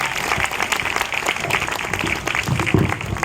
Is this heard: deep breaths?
no